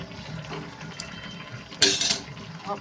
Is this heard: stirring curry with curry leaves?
yes